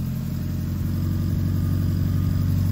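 A Toyota 7AFE engine with individual throttle bodies running on a Haltech 750 ECU, idling steadily at close range with a low, even, rumbling pulse and no revving.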